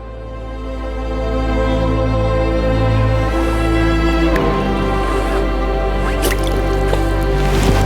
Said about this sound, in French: Je vais la remettre à l'eau